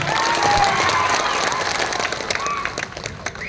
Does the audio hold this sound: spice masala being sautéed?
no